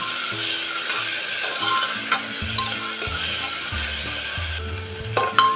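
Finely chopped medium tomato sautéing in a pan for a homestyle broad bean curry, with steady close sizzling and intermittent stirring scrapes and clinks throughout.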